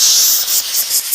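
Air blasting out of a ruptured air hose, a loud, close, high-pitched hiss that pulses slightly and continues through the whole moment.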